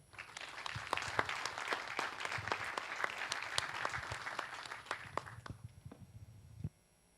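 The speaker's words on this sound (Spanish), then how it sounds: "Un aplauso, por favor." Sustained applause from a conference audience at a naval industry event in Galicia, dense steady clapping that thins and stops near the end.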